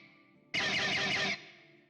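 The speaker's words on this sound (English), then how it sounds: "Scrapes sound like this." A virtual guitar scrape from a software instrument plugin in a music production program, a single dense, noisy rasping burst lasting under a second, then fading into a held tone.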